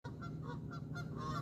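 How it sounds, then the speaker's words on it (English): Real geese honk repeatedly outside a Carrabba's restaurant, a steady run of loud, close calls with no talking over them. "Real life goose sound effects"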